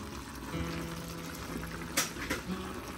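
Red spinach with tiny shrimp simmering in a pot, giving a steady, close bubbling hiss with a few louder pops near the end.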